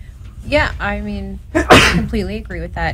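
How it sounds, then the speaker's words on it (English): A sharp, loud sneeze bursts out mid-conversation on a talk show about organ and blood donation, a single close explosive blast set between stretches of someone speaking. "Bless you"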